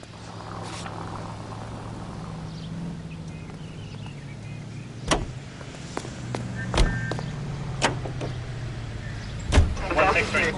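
A car is driven in the video game L.A. Noire, a low steady engine hum inside the cabin with several sharp clicks and thumps, and voices talking over it.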